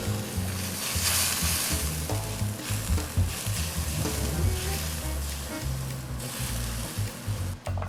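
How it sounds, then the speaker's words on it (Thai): Loud, steady sizzling and frying as tamarind water hits a pan of fish sauce for Thai three-flavour fried fish, with stirring scrapes throughout and no talk. "ใส่น้ำต้มมะขามเปียกนิดนึง นะ ใส่น้ำ นะครับ"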